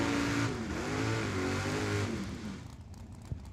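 King Kong Bel Air drag racing car at a dragway, its engine roaring loud and close with rising and falling revs, then easing off toward the end.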